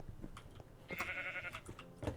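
A single sheep in Minecraft lets out a clear wavering bleat lasting about half a second, fairly faint against quiet game background sounds.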